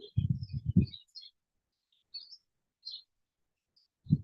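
Several high, thin bird chirps scattered across a quiet outdoor scene during a qigong session, with short bursts of a voice at the start and end.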